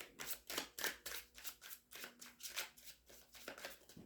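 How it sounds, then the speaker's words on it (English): Rapid, rhythmic shuffling of tarot cards, a steady run of soft riffling bursts close up with no talking. "One more shuffle."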